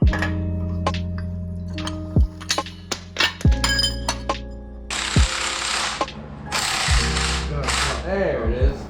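Hydraulic press separating connecting rods from pistons of a Jeep XJ engine in a workshop, sharp metallic clinks and ratcheting clicks with loud bangs and hissy bursts, irregular and close.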